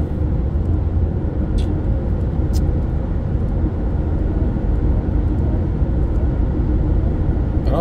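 Loud, steady road rumble on a road in Norway, with a couple of brief whooshes from cars passing in the opposite direction and no talking.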